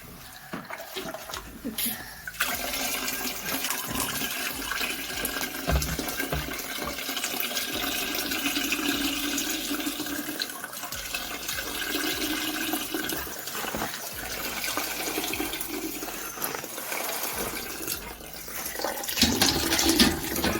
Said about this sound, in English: So now all I've got to do is strain the grains.